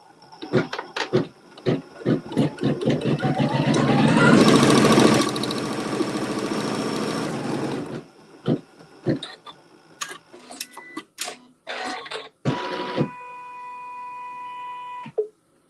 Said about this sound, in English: Let it sew the seam.